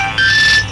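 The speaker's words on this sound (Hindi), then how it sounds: "किसका फोन है?" A short electronic phone ringtone trills, a bright tonal melody sounding for about half a second, fairly clear and close.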